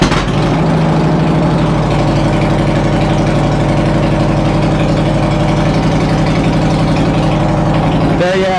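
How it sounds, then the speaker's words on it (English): A 2013 Harley-Davidson Softail Deluxe motorcycle engine fires up and settles into a loud, steady, lumpy idle that runs close by for the whole stretch, with a brief change near the end. "Let's start her up."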